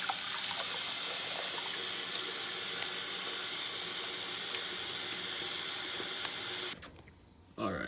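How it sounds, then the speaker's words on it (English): Hot water runs steadily from a tap in a sink as a reef aquarium pump is wiped clean with a sponge, a close constant rushing hiss that cuts off near the end. "just with the sponge, some hot water, just wipe it off, get all the algae and extra gunk off."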